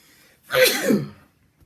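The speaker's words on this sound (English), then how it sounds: "I have to sneeze." A single loud sneeze, sharp and close, surrounded by quiet.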